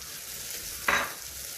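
Onions sautéing in a pan, a faint continuous sizzle with one brief louder scrape of a spatula midway.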